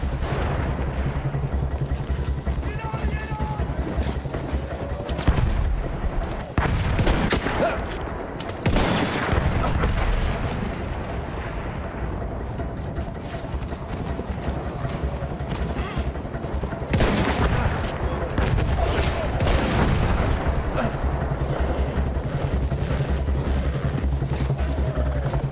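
Sustained battlefield din in Battlefield 1: dense rifle and machine-gun fire with heavy booming artillery blasts, loud and continuous throughout, swelling into bigger barrages near the middle and end.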